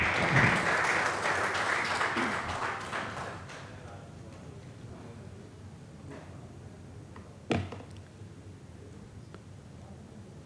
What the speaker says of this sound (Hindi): एक बार जोरदार तालियों से कविता जी का स्वागत किया जाए।